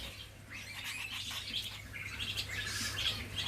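Birds chirp and tweet inside an aviary, with many overlapping high, quick calls from several birds and a low steady hum beneath them.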